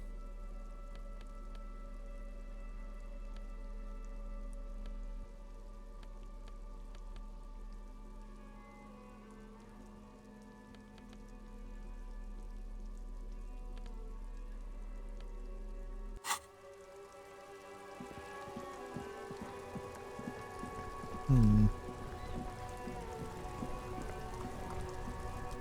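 Steady rain in the video game Disco Elysium, a constant hiss that shifts in tone partway through and continues at moderate level alongside a low game soundtrack, with a brief thump later.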